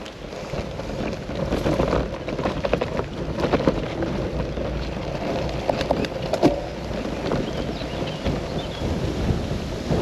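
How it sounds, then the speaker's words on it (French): Steady headwind rushes and rumbles against the microphone while cycling, for the whole stretch, with occasional louder gusts and scattered clicks. "Oh, le vent depuis tout à l'heure, j'ai le vent dans la gueule."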